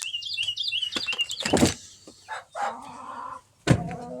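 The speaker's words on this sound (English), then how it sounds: "That is our goose. The big old goose. All our chickens." Chickens chirp and cluck in a backyard coop with a run, a burst of louder squawking and a goose honk, close and intermittent with short quiet gaps between calls.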